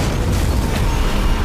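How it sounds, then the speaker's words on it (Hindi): A movie explosion as a helicopter is blown apart midair after a shot oil tanker ignites: a dense, sustained roar of blast rumble and debris filling the whole clip, loud and continuous without pauses. "सिर्फ एक गोली से उसने पूरे हेलीकॉप्टर को हवा में ही उड़ा दिया"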